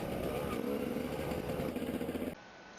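An enduro motorcycle engine revs steadily and loudly under acceleration, then drops off abruptly near the end, with a voice faintly present underneath.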